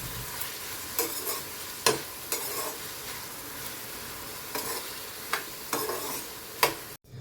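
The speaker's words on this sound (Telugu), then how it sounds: "ఉప్పు వేసి వేయించాలి." Onion, tomato, cashews, ginger, garlic, cumin, cloves, cinnamon and cardamom frying with salt in oil, a constant sizzle with repeated spatula stirring strokes and a brief clank near the end.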